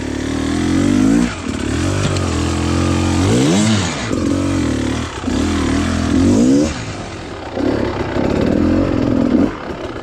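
Beta Xtrainer 300 two-stroke enduro motorcycle climbing a small rocky incline during hard enduro riding, engine loud and close with repeated throttle blips and revving surges rising and falling through the whole stretch, no talk.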